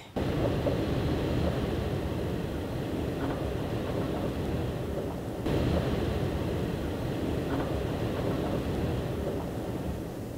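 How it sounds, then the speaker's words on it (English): Strong wind roars outside a truck camper as a steady, loud broadband rush with slight surges and no other sounds over it. "Went outside to test the wind a little bit, and it's windy."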